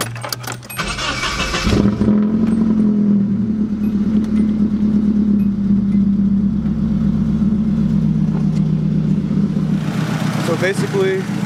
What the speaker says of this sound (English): I'll show you guys that the car does start up